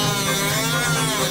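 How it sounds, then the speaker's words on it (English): A power tool sands the cut edge of a crash-damaged Audi RS6 front wing, giving a steady, close, high-pitched whirring grind that holds without a break and has no talk over it. "I'm just sanding down where I've cut now to make sure there's no sharp edges"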